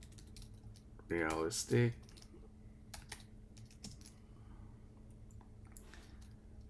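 Light, scattered key clicks come from a computer keyboard as a text prompt is entered, soft and close, following a brief spoken word near the start.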